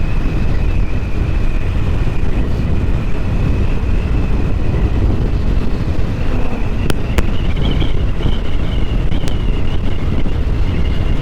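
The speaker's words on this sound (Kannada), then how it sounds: "ನೋಡ್ಬೋದು ಎಷ್ಟು ಸಖತ್ತಾಗಿ ಗಂಡಿ ಗಾಳಿ ಹೊಡಿತಾ ಇದೆ" Strong gusty wind buffets the microphone during a solo motorcycle ride up Nandi Hills, a constant loud roar with faint engine drone beneath and no talk.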